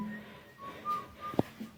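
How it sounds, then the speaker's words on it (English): Faint, short whistled notes at 3 a.m. from a patio, a few thin high tones broken by a brief sharper chirp, heard against quiet background noise. "Escucho silbidos desde el patio."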